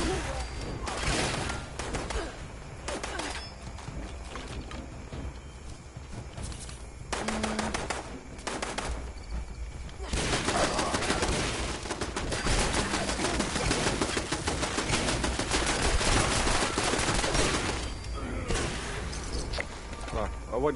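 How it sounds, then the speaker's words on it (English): Gunfire in the Fallout 76 video game, repeated volleys of shots and bursts running throughout at steady loudness, with people talking over it. "What are you shooting at over here?"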